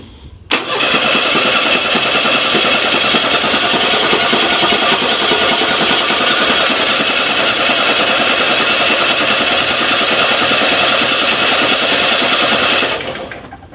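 Starter motor cranking the engine of a Ford Mustang that will not fire: a loud, close, steady mechanical churning that runs without a break for about twelve seconds, then cuts off abruptly.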